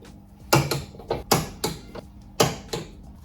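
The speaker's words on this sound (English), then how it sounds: "then I'll torque them down so I know that it's going to fit with a wee bit of persuasion" Torque wrench tightening bonnet strut bolts on a Fiesta ST, set to 30 newton metres: a run of sharp, close metallic ratchet clicks and clacks in uneven bursts, with no talk.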